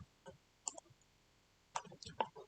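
Mouse clicks on a PC running an online biometric fingerprint attendance system, a few short crisp clicks spaced over a couple of seconds in a quiet room.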